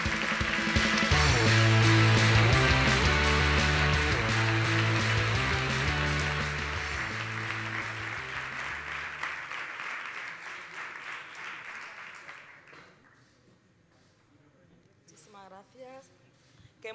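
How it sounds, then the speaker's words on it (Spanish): A crowd at an awards gala for European women's football claps loudly with cheering and music, the applause gradually fading out over the last few seconds. "Recibamos con un fuerte aplauso a nuestra embajadora internacional, Ana Maye."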